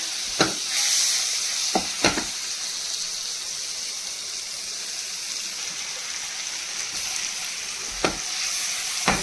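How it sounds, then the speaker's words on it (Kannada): Paneer frying in butter in a pan, a continuous soft sizzle with a few sharp clinks of a spatula against the pan, no talking. "ಇಷ್ಟು ಬಟರ್ ತೊಗೊಂಡಿದ್ದೀನಿ ಪನ್ನೀರ್ನ ಫ್ರೈ ಮಾಡ್ಕೊಳ್ಳೋದಕ್ಕೆ"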